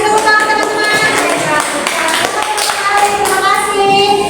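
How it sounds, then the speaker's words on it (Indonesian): Children in an Islamic religious education class clap together in applause, a loud, dense patter that continues with children's voices mixed through it. "Dikasih tepuk tangan teman-teman."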